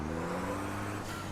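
Turbocharged diesel truck engine from a Formula Truck race in Automobilista VR, droning steadily at mid pitch with a hint of rising rev and turbo whir, close and continuous without talk.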